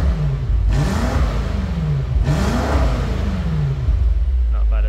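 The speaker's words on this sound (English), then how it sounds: "let the vehicle warm up and we'll see what it sounds like in comfort mode" A 592 bhp BMW M5 with the 4.4 engine runs warmed up in comfort mode, revving up and easing off in several close, loud sweeps of a deep, throaty exhaust note.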